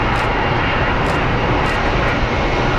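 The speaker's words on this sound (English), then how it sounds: "They're pushing it back south to the Southwest gates" An Imua airliner is pushed back from its gate at Phoenix Sky Harbor airport, a loud, steady, unbroken engine roar close by, with no voices over it.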